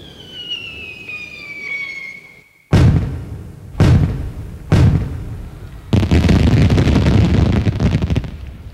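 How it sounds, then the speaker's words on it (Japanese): Fireworks bursting during a Japanese theatrical stage performance, following a high whistling tone: three sharp loud blasts spaced about a second apart, then a dense continuous crackling barrage, with no talk. "ああ、始まったね、花火。"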